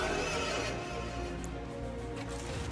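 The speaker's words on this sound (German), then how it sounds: "Das ist ein Pferd." A horse in the video game Bayonetta 2 neighs loudly, a drawn-out whinny over dense game music and effects.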